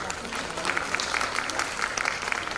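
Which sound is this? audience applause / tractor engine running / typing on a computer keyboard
audience applause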